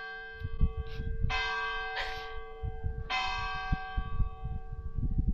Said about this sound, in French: il y a les cloches, j'espère que tu m'entends.